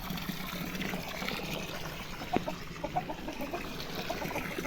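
Soft quacking duck sounds scattered over a steady outdoor murmur with a faint trickle of water, a few calls standing out briefly.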